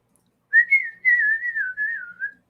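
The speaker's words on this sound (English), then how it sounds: "I'll whistle while you work." A person whistles a wavering, sustained tune in several connected phrases, a clear close-up melody heard alone with no talking.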